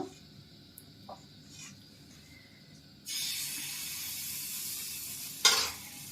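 Batter poured into hot ghee on a pan for patishapta bursts into a loud, steady hiss after quiet clinks, and a brief sharper flare of sizzling comes near the end.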